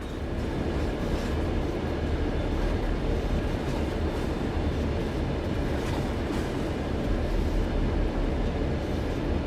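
Train rolling along in Train Sim World with the rear cars bunching up and bumping into the front, a steady dense rumble of wheels and couplings throughout, close and loud with no talk.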